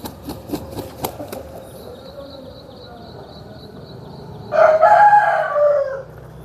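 An Eastern breed rooster, a hard-coloured kaki dega cock, crows once, loud and close, near the end, after some knocking and a quieter stretch of background noise.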